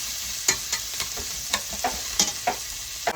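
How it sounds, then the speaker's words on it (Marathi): Onion frying in a pan for a mushroom bhaji, with steady sizzling and a series of sharp scraping clicks from stirring every half second or so, close and moderately loud. "अशा तऱ्हेने आपला कांदा मस्तपैकी भाजून झालेला आहे"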